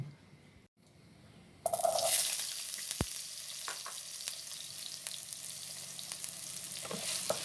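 Potatoes and carrots hit a hot pan and burst into loud sizzling frying, with a few stirring scrapes over a steady crackle, after a quieter moment at the start.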